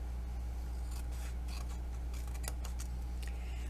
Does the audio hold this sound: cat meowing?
no